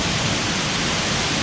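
Small waterfall trickling at the base of Salto de la India near San Vicente de Chucurí, Colombia, a steady, even hiss of falling water with no other sounds.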